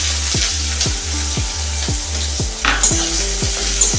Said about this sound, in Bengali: তারপরে দিয়ে দেব পেঁয়াজ কুচি।